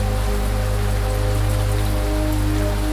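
Steady rain falls continuously, a dense even patter of drops on surfaces, moderately loud and unbroken, with a faint low hum running underneath and no voices.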